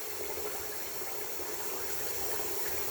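A small amount of water runs steadily into a thick shaving cream during a shave prep, an even, close hissing trickle with no talk over it.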